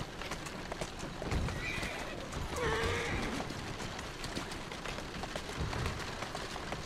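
A horse neighs in Assassin's Creed Syndicate, a short whinny mid-scene over steady rain and clip-clopping hooves on a street.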